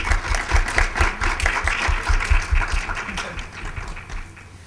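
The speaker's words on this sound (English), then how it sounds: "So please join me in giving this terrific panel a round of applause." Audience applause for a panel at a talk on Hispanic New Jersey, media and culture: dense, steady clapping from a sizeable room that gradually thins and fades toward the end.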